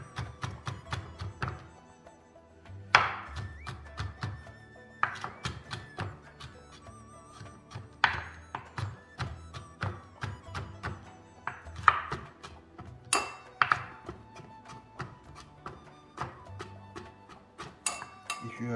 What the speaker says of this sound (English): You have to chop it or slice it as tiny as possible.